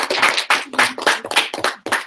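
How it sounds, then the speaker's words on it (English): Hand clapping during a live Q&A session, sharp distinct bursts of clapping in an irregular rhythm, close and fairly loud, with brief gaps between each burst. "let's give Kelsey a big round of applause"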